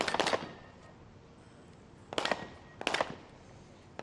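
Sniper rifle shots at a SWAT team challenge, three sharp loud cracks spaced roughly a second or two apart, each with a short echoing tail, heard outdoors with no talking in between.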